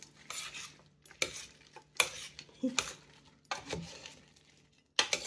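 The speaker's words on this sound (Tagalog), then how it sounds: "haluin natin" A spoon scrapes and stirs food in a pan in several uneven bursts, with quieter pauses between and a soft hum underneath.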